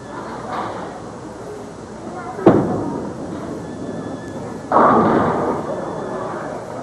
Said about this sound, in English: almost got away with a strike, but leaves the 10 pin that time